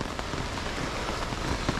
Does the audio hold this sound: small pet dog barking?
no